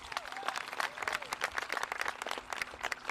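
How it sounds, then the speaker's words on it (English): Applause from an audience at the 2022 Pacific High School commencement, steady crowd clapping with dense overlapping claps heard alone at moderate volume throughout. "So let's give a big round of applause to TDC Studios."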